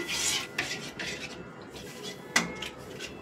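A utensil scrapes and rasps against a pan while milk is stirred over low heat for homemade pantua, soft irregular strokes with a few brief clinks, close and fairly quiet.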